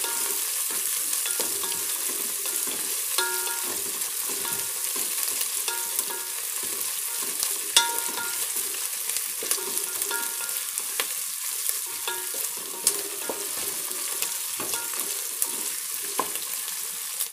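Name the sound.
garlic paste frying in a pan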